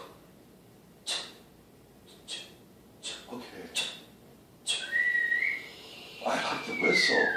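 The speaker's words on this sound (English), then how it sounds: "I know what the whistle means." A person whistles in a few short, sharp bursts, then longer rising and falling whistled tones near the end, with pauses of quiet between them.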